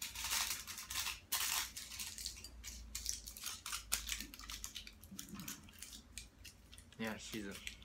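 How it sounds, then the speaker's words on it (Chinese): Tin foil crinkled and pressed over a small hookah bowl loaded with loose tobacco, a close run of crisp crackles and rustling taps with brief pauses, faint murmuring in the background. "然后我们盖上锡纸"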